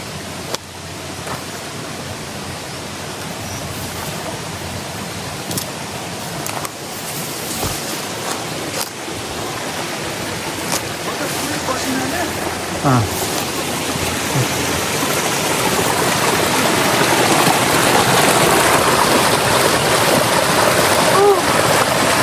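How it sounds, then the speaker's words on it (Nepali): A small village stream runs among hills, a steady broadband wash of flowing water heard from some distance, growing gradually louder and fuller toward the end, with faint occasional clicks and rustles. "यो सानो नालीको आवाज टाढैबाट आएको"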